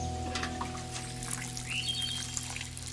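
Water poured from a watering can onto crops in the video game Len's Island, a steady, moderately loud trickling stream running continuously over a constant background hum and game music.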